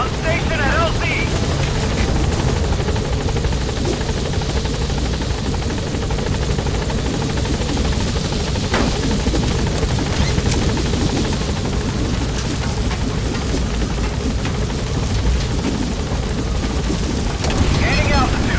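B-Quad helicopter arriving at a landing zone in Metal Gear Solid V, a loud, steady rotor roar and engine drone filling the whole stretch, with a radio voice speaking over it.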